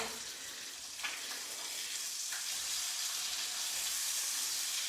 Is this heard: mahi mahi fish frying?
yes